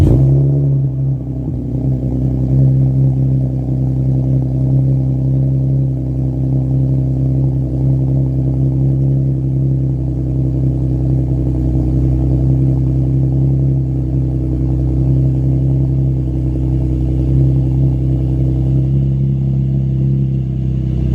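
A 3.6L V6 Camaro with a Magnaflow Street Series exhaust revving, a loud, steady, deep exhaust drone that holds near-constant, recorded up close with no voices.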